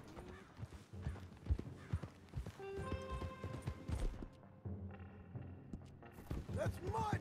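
Horse hooves clip-clopping at a walk in the video game Red Dead Redemption 2, an uneven, fairly quiet rhythm mixed with game music and other sounds, and a voice talking over it.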